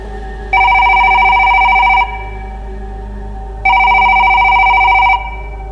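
A telephone rings in two long electronic bursts of about one and a half seconds each, separated by a pause, loud and close over a low steady hum, with no one speaking.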